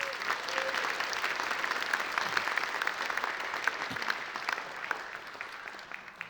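An audience at a university distinguished alumni ceremony applauds outstanding seniors, dense sustained clapping from a large crowd filling the room at a steady level throughout.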